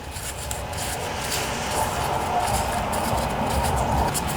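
Rolled sandpaper rubbed inside a bearing of a vintage Briggs and Stratton riding lawnmower engine, a continuous close gritty rasping that holds steady throughout without pauses.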